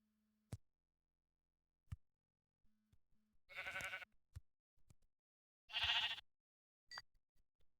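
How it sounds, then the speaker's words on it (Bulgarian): Sheep bleating in Minecraft survival: two loud, close bleats a couple of seconds apart, separated by quiet clicks and soft game ticks, with no talking. "Овца."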